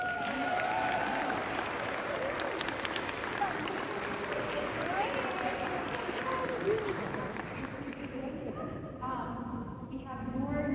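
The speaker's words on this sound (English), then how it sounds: "we will applaud you and welcome you" A meeting audience of new and returning members claps steadily and loudly throughout, a dense sustained applause with murmuring voices mixed in, easing slightly near the end.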